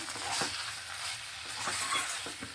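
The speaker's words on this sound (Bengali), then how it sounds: "এই যে ভাজা ভাজা করে নিচ্ছি মশলাটা দিয়ে" Spice paste sizzles and fries in a pan for a Bengali rice dish, stirred now and then with a utensil that clinks softly; steady close frying hiss, no speech.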